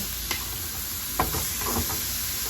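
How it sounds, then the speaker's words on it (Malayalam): Carrot frying in a pan is stirred, with a few scraping clacks of the spoon over a continuous close sizzle; no one talks. "ഇതൊന്ന് വാടുന്ന വരെ ഇളക്കി കൊടുക്കണം കേട്ടോ"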